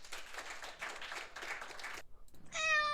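A cat gives a short, high meow right at the end of the clip. Before it comes a stretch of soft, crackly clapping-like noise and a brief pause.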